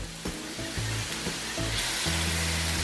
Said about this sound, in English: Cook down our pork.